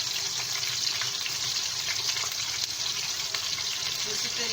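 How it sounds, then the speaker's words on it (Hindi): Minced meat kebabs fry in oil or ghee in a pan, a steady, moderately quiet broadband sizzle and crackle that runs continuously without talk. "ये हमने ऑयल या घी जो भी आप यूज़ करते हैं उसमें हम फ्राई कर रहे हैं कबाब।"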